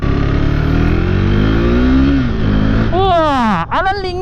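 A KTM RC390 motorcycle engine revs on a test ride, a loud steady drone that climbs in pitch, then swoops sharply up and down in quick revs near the end, with a voice talking over it.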